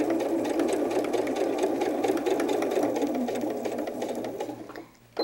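A sewing machine runs continuously while stitching a fabric bunny doll, a steady rapid mechanical whirr and needle clatter that holds for about five seconds, close and clear, then slows and stops.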